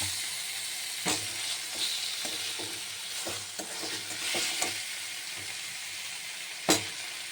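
Boiled potatoes and Kashmiri chili fry in a spice paste with a constant close sizzle, broken by several sharp scrapes and knocks of stirring, with no voices.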